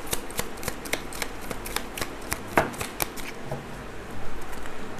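Tarot cards shuffled by hand during a reading, a run of crisp riffling and snapping card flicks close up with no talk over them.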